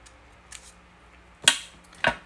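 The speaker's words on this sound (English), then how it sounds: "I'm going to do a little trimming here" Scissors trimming paper during a junk mail craft project: two sharp, brief snips well apart, with a faint earlier rustle, close and alone without talk.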